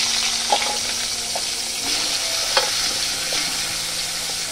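Brinjal pieces fry in oil in a kadai with a constant close sizzle, broken by a few light scrapes and clinks of stirring, with no talking.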